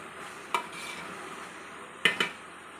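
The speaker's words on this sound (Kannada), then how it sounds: "ಇದು ಚೆನ್ನಾಗಿ ಕುದಿಯೋಕ್ಕೆ ಬಿಡಬೇಕು." Hair oil with mehendi leaves simmering in a pan over a low flame gives off a soft continuous bubbling hiss, broken by a few sharp clinks of a utensil stirring against the metal.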